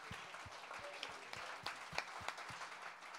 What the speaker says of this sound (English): Why don't we give them a hand clap?